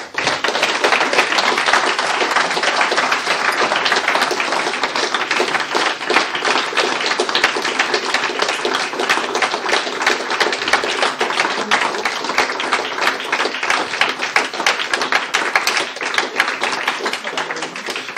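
Sustained applause fills a hall at the end of a conference talk on trolls, a dense, even wash of many hands clapping that continues unbroken at full strength.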